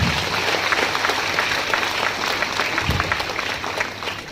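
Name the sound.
audience applauding loudly on request at a training program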